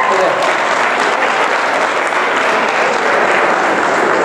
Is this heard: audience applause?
yes